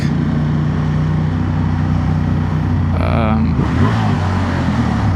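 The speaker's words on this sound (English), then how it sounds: "when I'm here in the middle of the traffic" Steady low rumble of road traffic with engines droning close by, and a vehicle passing near the end.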